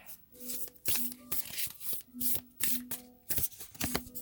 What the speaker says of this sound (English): we'll pull a Nature's Whispers card